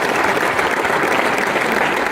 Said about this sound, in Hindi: इनके लिए एक जोरदार तालियां करूंगा।